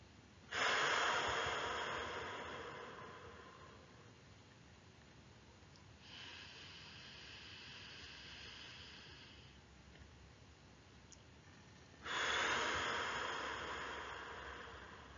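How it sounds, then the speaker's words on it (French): Slow, deep breaths during a relaxation exercise, alone in a quiet room: a long audible inhale, a softer sustained exhale, then another strong inhale, close and gentle with no talking. "je vais juste inspirer ou expirer et vous faites à votre rythme"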